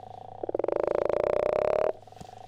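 A western leopard frog gives a single loud, close snoring call, a rapid rattling burst of pulses lasting about a second and a half, with a faint steady hum underneath and no voices.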